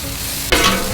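Vegetables, a colourful mix being softened, hit a hot pan with a sudden loud sizzle halfway through, the frying hiss staying steady and close afterward.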